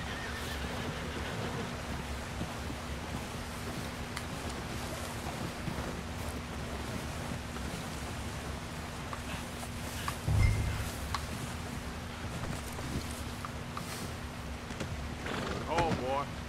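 A horse in the Red Dead Redemption 2 video game whinnies and approaches with clip-clopping hooves, the game sounds fairly quiet under a steady hum, with someone talking over them.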